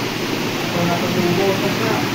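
Water of a stream in the Devgad area of Konkan flowing down from higher ground, a loud, steady rushing roar close by, with a voice talking over it.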